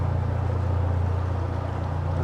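A narrowboat's diesel engine idling inside Braunston Tunnel gives a loud, steady low throb with a regular beat and a faint wash of water over it.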